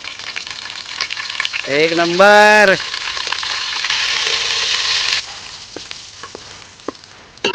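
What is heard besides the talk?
onion tempering sizzling for poha on wood stove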